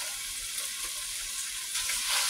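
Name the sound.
food searing in a hot pan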